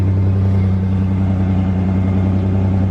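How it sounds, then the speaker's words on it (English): A Dodge truck with a 3.0-liter six-cylinder 4x4 engine idles with a steady, deep exhaust drone. The hum is loud and close and stays unbroken throughout, with no talking over it. "Woo, exhaust."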